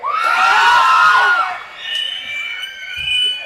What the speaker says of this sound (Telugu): మీ అరుపులకి రోమాలు ఎప్పుడు నిక్క ఒడుచుకుంటూ ఉంటాయి